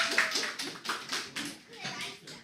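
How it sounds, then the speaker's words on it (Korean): Applause from a church congregation at a sermon, a dense patter of many hands clapping steadily for a couple of seconds, moderately loud and close, with scattered voices mixed in. "자, 박수."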